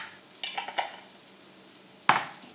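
Smashed potatoes frying in a pan, a low background sizzle broken by a cluster of short scraping clatters early on and one sharper clank later, close and without talk.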